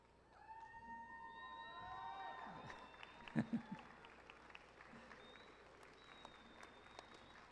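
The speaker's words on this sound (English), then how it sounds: "Let's give a round of applause again to all the graduates." An audience at a university engineering commencement applauds the graduates with sustained clapping and a few cheers and whistles, moderately distant in a large hall, as the ovation swells and then thins out.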